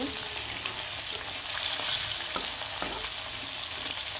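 Karkhu river fish frying in hot oil with occasional stirring taps, a continuous close sizzle broken by a few short clicks of a utensil.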